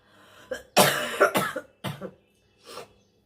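A person coughs in a short burst of several harsh, throaty coughs close to the microphone, followed after a pause by one more softer cough.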